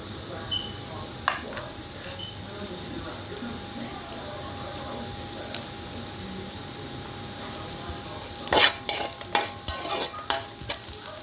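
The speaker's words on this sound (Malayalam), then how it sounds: "പിന്നെ വേപ്പിലയും പച്ചമുളകും ഞാൻ ഇതിനകത്തേക്ക് ആഡ് ചെയ്യാണ്." Curry leaves and green chillies frying in a pan for salmon fish curry: a faint, quiet sizzle that flares into a burst of crackling and spitting near the end, with some talk.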